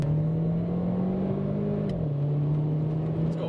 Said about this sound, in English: in terms of the sound of the engine, we'll just slow down, get a load of this